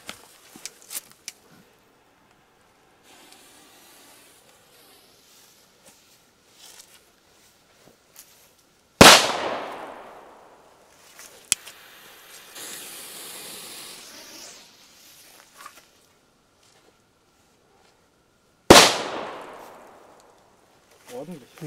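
Two D-Böller firecrackers go off as sharp, loud bangs about ten seconds apart, each followed by a short fading rumble, with quiet stretches and faint rustling between them.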